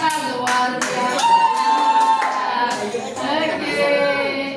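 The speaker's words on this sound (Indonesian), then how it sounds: "tepuk tangan buat ketiga grup ternyata luar biasa" Audience applause for three groups at an Indonesian Independence Day celebration in Nganjuk, a steady run of hand clapping mixed with a held musical tone and children's voices.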